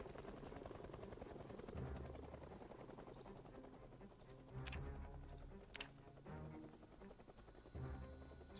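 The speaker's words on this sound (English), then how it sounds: "That's a helicopter, isn't it?" Helicopter in the Project Zomboid video game, a low rapid thumping rotor chop that runs steadily throughout at moderate distance, with a few sharp clicks on top.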